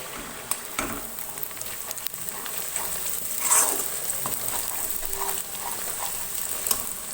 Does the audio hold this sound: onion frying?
yes